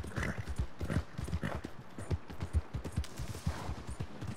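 Horse hooves clip-clop steadily in Red Dead Redemption 2 gameplay, a close, rhythmic trotting that runs the whole time, with no one talking over it.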